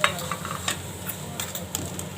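Gobindobhog rice for basanti pulao, with cardamom, cloves and cinnamon, stirred in a pan: a brief close burst of spoon scrapes and light clicks over a soft sizzle.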